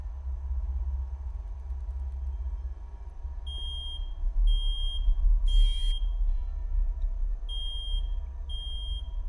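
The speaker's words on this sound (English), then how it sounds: "Wait, is that the fire alarm?" Fire alarm in a horror video game beeping in a steady repeating pattern of short high tones over a low droning ambient rumble, with one brief harsher burst in the middle.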